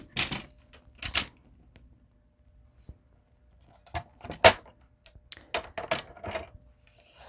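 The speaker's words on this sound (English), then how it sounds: "So I have to trim this in my bigger paper trimmer." A large paper trimmer slices through card stock in a few crisp, separate cuts and sliding strokes, with quiet pauses between them and no voices.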